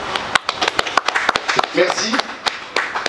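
Scattered, uneven claps ring out close by at a press conference while a person speaks over them, the clapping loose and intermittent rather than full applause.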